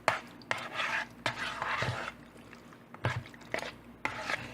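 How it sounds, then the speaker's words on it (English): Cauliflower being mixed into cheese sauce in a baking dish, with repeated wet scraping and stirring strokes of a utensil against the dish, close and fairly steady, with no talking. "just go ahead and mix up my cauliflower with the cheese sauce"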